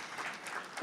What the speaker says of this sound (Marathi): याचं जोरदार टाळ्या वाजून अभिनंदन होऊ देत